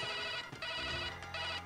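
A mobile phone ringtone plays loudly and continuously in repeating melodic bursts, close by, with no talk over it, during a comedy show.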